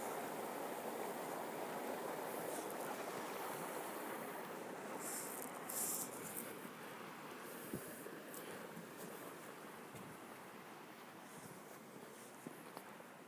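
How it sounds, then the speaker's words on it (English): A river flowing at the bottom of a canyon, giving a steady broad rush of water throughout, moderately loud and even, with a few faint knocks and no talk. "Me and Bear found a river."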